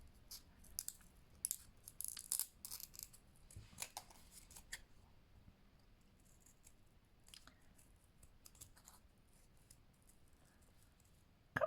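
Scissors snipping through very thick card while a tag shape is cut out, a series of quiet close crunching cuts in short irregular bursts, with longer gaps toward the end and no voices.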